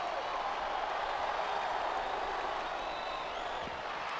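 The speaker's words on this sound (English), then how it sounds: "I think this crowd's giving these superstars a piece of their minds, King." Arena crowd noise from the WWE SmackDown vs Raw wrestling video game on PS2, a steady, dense roar of cheering and murmuring that holds at an even level throughout with no breaks.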